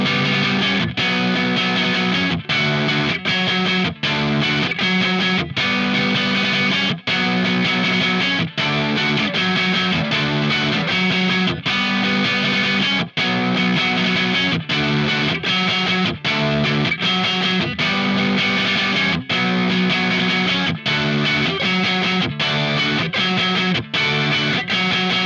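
Heavily distorted electric guitar plays the chorus of Incubus's "Rogues" at full volume, a dense sustained chord riff with sharp rhythmic breaks that repeats for about twenty-five seconds.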